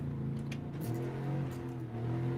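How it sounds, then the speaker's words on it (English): A Ford F-150 truck's engine drones steadily in a racing video game, a close low hum that shifts pitch slightly as it revs, with faint clicks over it. "That's what it's like to drive the Ford F-150."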